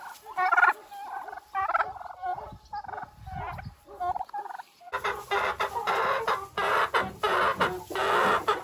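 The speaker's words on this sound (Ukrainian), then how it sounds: "Півник." A rooster crows and clucks in loud, repeated bursts, close by, with other fowl calling around it and the calls growing denser toward the end.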